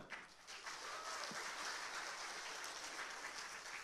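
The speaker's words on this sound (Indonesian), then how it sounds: "Boleh tepuk tangan." A crowd applauds steadily at a public debate between regency election candidates in Tanggamus, Indonesia, a dense wash of many hands clapping at an even level throughout, fairly distant.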